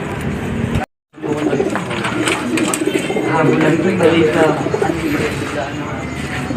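Racing pigeons cooing close by at a loading station, a steady soft rumble of calls under a busy background, with a brief dropout near the start.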